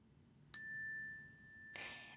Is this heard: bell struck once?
yes